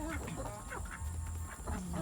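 Ducks quacking at morning feeding time alongside chickens, a few nasal calls standing out over a steady background hum, with no talk.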